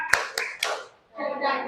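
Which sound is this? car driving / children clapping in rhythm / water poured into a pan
children clapping in rhythm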